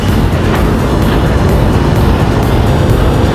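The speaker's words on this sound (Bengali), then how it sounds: "আমি বলতে না বলতে আরেকটি ট্রেন চলে আসলো।" A train arriving at a railway station in Bogura, a loud continuous rumble of the engine and wheels close by, steady throughout with no clear talk.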